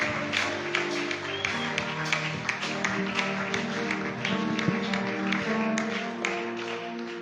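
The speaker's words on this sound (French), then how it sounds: "Merci de m'acclamer." A congregation at a church service claps in a steady rhythmic beat, moderately loud and continuous, over music with sustained tones and occasional voices.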